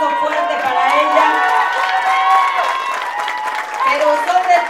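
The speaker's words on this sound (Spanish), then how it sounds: "les pido un aplauso fuerte para ella" A crowd at an outdoor community meeting with ejidatarios in Xochimanca, Xochimilco, breaks into loud applause mixed with cheering and shouts, a dense, lively wash that continues throughout.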